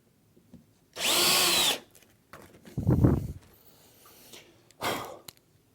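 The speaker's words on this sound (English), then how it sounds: "You drill your hole." A power drill bores a hole in a Cooke & Lewis 1000mm pan drawer unit: one loud sustained burst of about a second, then softer handling knocks and a short final whir, with no talking.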